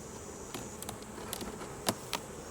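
Honeybees buzz steadily inside a small, crowded nucleus hive, a dense close hum broken by a few sharper individual wing buzzes passing near.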